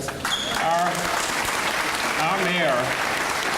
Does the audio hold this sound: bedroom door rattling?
no